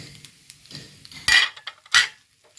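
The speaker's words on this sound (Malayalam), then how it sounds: "ഒന്ന് ഇളക്കി കൊടുക്കാം കേട്ടോ" An egg stir-fry is stirred in a pan: a spatula makes light taps, then two loud, close scraping clanks against the metal about half a second apart, with no talk.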